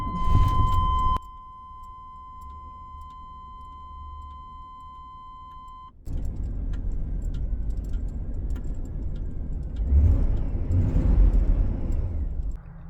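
An OBS GMT400 pickup with a swapped-in manual transmission: a steady electronic chime sounds first, then after a quiet pause the engine cranks, catches and settles into a rumbling idle before revving louder.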